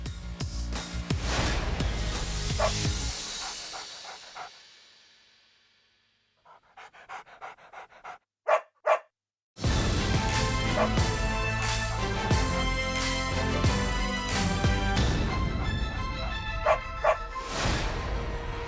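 Dogs at a Stanley Pup dog hockey game pant loudly and steadily close by, with a few sharp barks in a quieter stretch before the heavy panting resumes and continues throughout.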